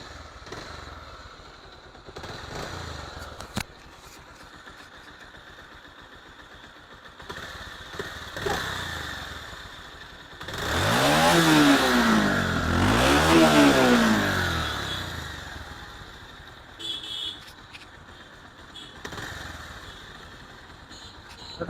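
A Bajaj Pulsar motorcycle engine runs after a timing adjustment, idling steadily and then revving up twice in strong rising and falling surges, loud and close, before settling back to idle.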